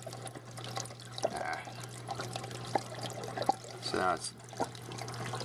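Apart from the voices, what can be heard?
water flowing through algae scrubber with open drain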